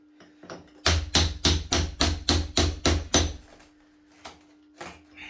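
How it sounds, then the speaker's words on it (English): A rapid series of about eight heavy, rhythmic thuds from a hammer drill biting into hard, crumbly brick, then a pause and a few scattered knocks. "Some walls are really good to drill. This one's horrible."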